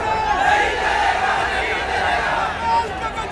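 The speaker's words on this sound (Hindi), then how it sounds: "प्रदर्शन और नारेबाजी" Street protesters in Pithampur, near Indore, raise a steady roar of chanting and shouting, a loud unbroken wash of many voices with a few sharper cries standing out.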